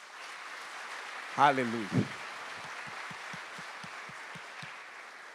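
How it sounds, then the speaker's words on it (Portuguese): A church congregation applauds in a steady wash of clapping, with one voice calling out briefly over it near the start. "Dê uma salva de palmas ao Senhor pelo louvor."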